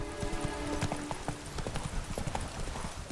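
A horse in The Witcher 3 gallops with rapid, steady clip-clop hoofbeats at moderate distance, a faint neigh mixed in, all fairly quiet.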